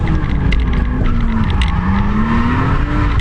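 Tires squealing on an RB20 turbo R32 Skyline drift car, heard as a loud, sustained skid with a wavering tone over the roaring engine, close and continuous.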